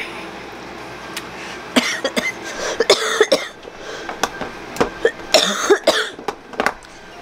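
A woman coughs repeatedly in short, close, loud bursts scattered over several seconds, with a few throat-clearing sounds mixed in.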